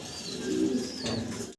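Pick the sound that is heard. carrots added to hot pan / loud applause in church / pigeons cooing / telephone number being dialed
pigeons cooing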